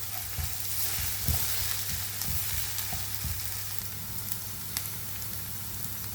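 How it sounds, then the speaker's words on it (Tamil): Food sautéing in a pan while making curry buns, a steady crackling sizzle with occasional soft stirring knocks and scrapes throughout, moderately loud and continuous. "இப்போ நல்லா வதங்கணும்"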